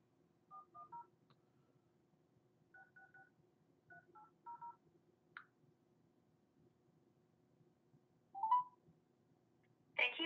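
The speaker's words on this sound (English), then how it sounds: "I'm gonna dial it and then put it on speaker." Several short telephone keypad tones beep in quick groups on a speakerphone, faint and close, separated by quiet gaps, followed by a couple of brief clicks near the end.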